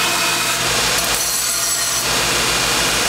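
A metal rod end being ground flat on a grinder while turned sideways, a steady, close, continuous abrasive whir and rasp that holds the whole time without pause.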